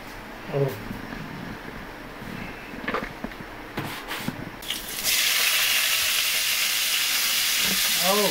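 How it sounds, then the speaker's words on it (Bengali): Vegetables frying in hot oil with turmeric and chili powder, starting with faint crackles and scattered clatter, then a loud, steady sizzle bursts in around five seconds and continues to the end. "ভাজিটা করার জন্য একটু তেল দিচ্ছে, আর এখানে একটু হলুদ মাখিয়ে নিচ্ছে ভাজিতে।"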